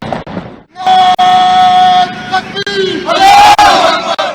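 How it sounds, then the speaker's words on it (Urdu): Soldiers at Allama Iqbal's mausoleum in Lahore shout loud, drawn-out chants in unison, the massed voices rising and falling in bursts with short pauses between calls. "اس موقع پر جوانوں نے نعرہ تکبیر، اللہ اکبر اور پاکستان زندہ باد کے شگاف نعرے بھی لگائے"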